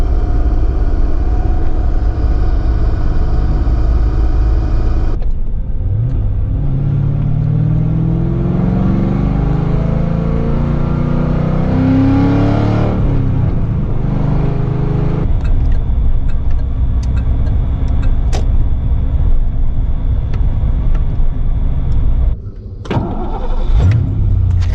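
A Chevy Squarebody truck engine runs loud and close while warming up, a steady rumbling idle with rising and falling engine pitch in the middle and a brief dip near the end, no talking.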